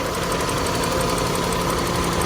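A 1993 Toyota Corolla 1.6 SEG with a 1600 cc four-cylinder 4A-FE engine idles steadily, giving a loud, constant, even hum with a faint regular ticking throughout and no talking.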